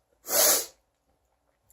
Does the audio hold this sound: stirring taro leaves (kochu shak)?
no